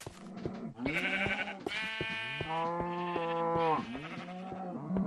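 Sheep on a video game farm bleat several times in a row, clear wavering cries that rise and fall, up front with nothing else heard.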